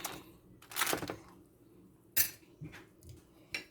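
Pieces of jerk chicken are flipped with metal utensils against a pan or grill, producing a few sharp clinks and scrapes with quiet gaps between them.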